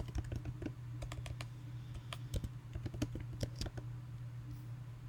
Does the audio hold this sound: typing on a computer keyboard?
yes